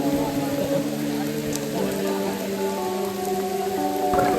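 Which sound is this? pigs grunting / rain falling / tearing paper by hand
rain falling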